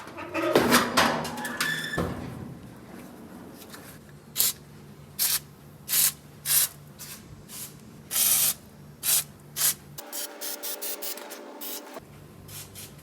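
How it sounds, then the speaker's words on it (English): Lubricant sprayed onto the inside fender bolts of a 1965 VW Beetle: an opening burst after a few clunks, then a series of about eight short, crisp spray hisses at steady intervals, close and loud. "Let's lube these bolts up from the inside."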